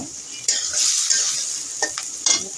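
Onions softening in hot oil with a pinch of salt, stirred steadily, a continuous close sizzle broken by a few sharp scrapes of a spoon against the pan.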